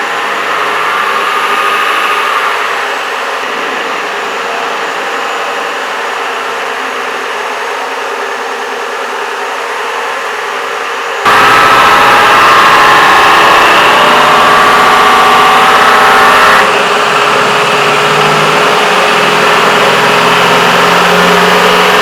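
A lifted Hummer H2 converted to a Duramax diesel engine runs at idle, steady and close for the whole stretch, with an abrupt shift in tone partway through and no talking.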